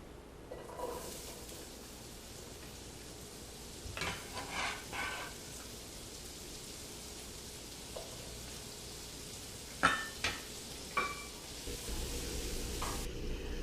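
Thinly sliced onions frying with bacon bits in a skillet, a steady soft sizzle that runs throughout, with occasional clinks and scrapes of a utensil against the pan.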